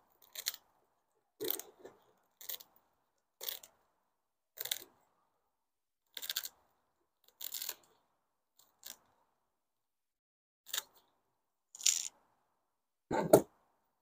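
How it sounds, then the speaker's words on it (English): Orchid roots on a Grammatophyllum being cut away during repotting, a series of about a dozen sharp, crisp snips spaced irregularly a second or so apart, close and isolated against silence. "I'm just gonna start cutting. It's a lot of roots to cut away."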